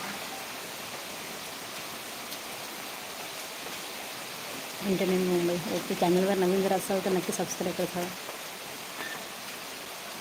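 Steady rain falls as a continuous hiss throughout, with a person talking over it for a few seconds in the middle.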